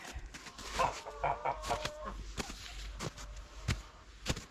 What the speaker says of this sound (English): I put the baby chicks out a couple days ago since it mostly stopped.